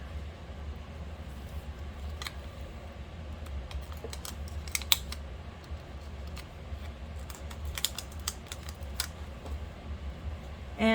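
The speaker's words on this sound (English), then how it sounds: "if you can hear in the background, my air conditioning's running" Air conditioning runs in the background as a low, steady hum, with faint small clicks and taps of nail work over it, quiet and close, no talk.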